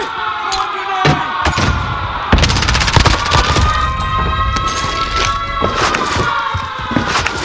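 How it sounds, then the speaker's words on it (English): A flashbang grenade in Call of Duty Warzone on Rebirth Island, set amid rapid gunfire cracks and a bright ringing, layered tones that linger through the scene, loud and busy. "Flashbang going up!"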